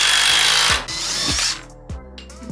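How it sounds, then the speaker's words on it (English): A power drill whirs loudly, then stutters in short bursts as it bites into wood, the motor revving and easing off. "I gotta drill this last piece in"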